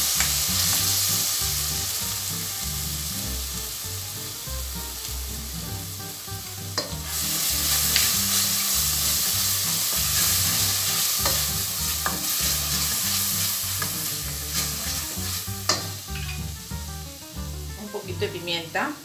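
Garlic and red chili paste fry in a pan with a continuous sizzle, while repeated scraping stir strokes keep a loose rhythm throughout, close and fairly loud.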